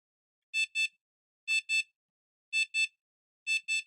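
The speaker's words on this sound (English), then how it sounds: "We have an audible proximity alert." Proximity alert from a PiicoDev ultrasonic rangefinder on a Microbit: four pairs of short, clear electronic beeps in an even double-pulse rhythm, close and alone in silence.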